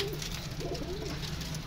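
Pigeons cooing close by, soft rolling coos repeating over a constant low background hum.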